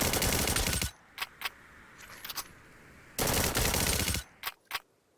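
Video game weapon firing in rapid automatic bursts, two long sustained loud volleys separated by a pause with a few brief single shots and clicks, close and dominant with no talk.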